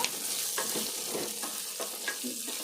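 Brinjal pieces sizzle in a hot pan as a spatula stirs them in periodic scraping strokes, the frying hiss steady underneath.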